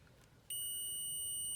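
An electrical continuity tester sounds when its probes make a circuit connection: quiet background, then one sharp, steady high-pitched tone that starts abruptly and holds to the end.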